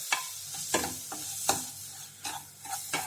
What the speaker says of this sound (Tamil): சேர்த்து இதையும் ரவை கூட சேர்த்து நல்லா வதக்கிடலாம்